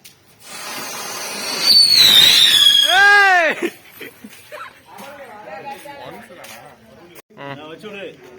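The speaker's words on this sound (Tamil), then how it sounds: "ட்ரெயின் வெடி வந்து மும்மரமா எல்லாரும் பண்ணிட்டு இருக்கோம்." A Diwali train firecracker fires off, a loud hissing whoosh with a rising then sweeping whistle that cuts out abruptly, followed by scattered crackles and voices chattering nearby.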